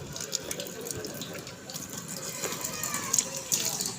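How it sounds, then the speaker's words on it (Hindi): Water pours steadily from taps at a spring well at the shrine of Imam Reza in Neishabur, Iran, a continuous splashing gush with faint voices in the background. "ये वो टूटियाँ लगी हुई हैं। ये बहुत मीठा और बहुत मज़ेदार पानी है।"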